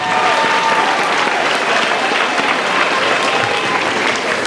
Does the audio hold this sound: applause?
yes